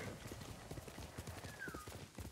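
Horse galloping in the video game Ghost of Tsushima, rapid rhythmic hoofbeats pounding steadily throughout with a brief whinny-like tone midway, moderately loud and without talk.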